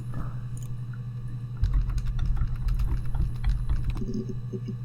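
Computer keyboard typing in the Her Story video game, a run of quick irregular key clicks over a low steady hum, close and fairly loud with no talk.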